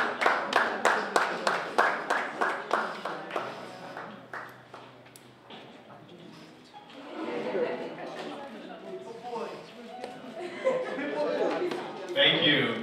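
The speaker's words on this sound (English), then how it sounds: "Round of applause for Kolakemi Phillips." Audience applause at an exhibition for a 2019 media fellowship, a burst of rhythmic clapping that fades, followed by murmuring crowd noise and renewed clapping, with voices talking.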